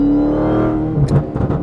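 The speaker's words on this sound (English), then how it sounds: "That noise is just nuts. You give a little press of the throttle pedal." A 1000hp Dodge Hellcat engine drones and then is blipped on the throttle, rising into a sharp, loud rev with crackling bursts near the end.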